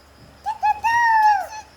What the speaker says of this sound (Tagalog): What's the sound of the bird?